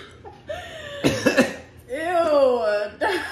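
A person coughs in harsh bursts after a Sprite challenge, with a couple of short explosive coughs mid-clip between close, loud talking voices.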